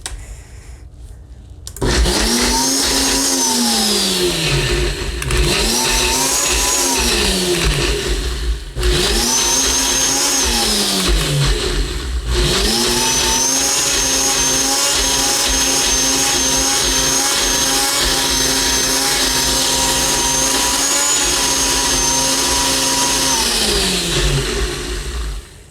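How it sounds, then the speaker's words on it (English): Countertop blender puréeing a Greek feta dip: a loud motor whine that starts in a few short bursts with rising and falling pitch, then runs steadily for a long stretch before spinning down, with no talking. "I'm just gonna screw this on and blend it for probably about 30 seconds or so."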